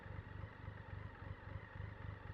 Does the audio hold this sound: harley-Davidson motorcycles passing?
yes